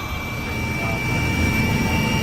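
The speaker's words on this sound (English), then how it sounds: "So I took a big chance with this helicopter ride." A helicopter in flight, heard as a loud, steady engine and rotor drone with a faint whine, constant from start to finish, with no talking.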